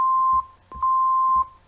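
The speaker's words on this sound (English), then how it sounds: "I believe this is a 1 kilohertz sine wave, and that will be used to bleep people out when they're swearing." A pure 1 kHz sine-wave tone like a censor bleep, from a synthesizer, sounding as steady sustained beeps broken by short gaps, loud and alone with faint low thumps at each break.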